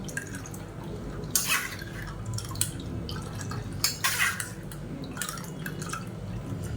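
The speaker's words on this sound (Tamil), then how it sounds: "நல்லா கொஞ்சம் தண்ணி விட்டு நல்லா எல்லா ஜூஸையும் பிழிஞ்சு எடுத்துக்கலாம்" Juice squeezed out by hand with a little added water while making an immunity rasam, heard as close, intermittent wet drips and splashes in a few separate bursts over low kitchen background noise.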